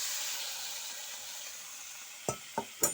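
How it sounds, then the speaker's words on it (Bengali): Spices sizzling and frying in a pan, a steady soft hiss with a few sharp scrapes and clinks of stirring near the end, heard close with no talking. "মশলাটা কষানো হচ্ছে।"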